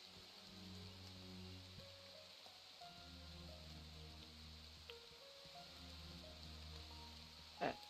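Steady soft rain in the video game Echoes of the Plum Grove patters throughout over a low looping hum, with a brief sharp tap near the end.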